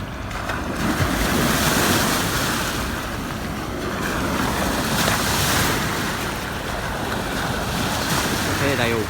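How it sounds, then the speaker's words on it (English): Waves from a passing Uber Boat wash onto the River Thames foreshore in London, a steady broad rush of surf and lapping water with wind buffeting the microphone throughout. "Here comes the waves."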